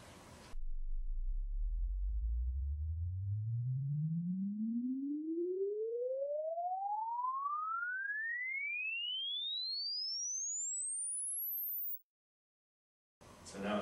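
A pure sine tone sweeps smoothly upward from a deep bass pitch to a very high, thin whistle over about eleven seconds, steady and alone, then cuts to silence before faint background noise returns.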